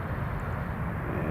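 A fixed-wing airliner taking off at Newcastle International Airport roars in a steady, broad engine rumble heard from a distance, dense and continuous with no break.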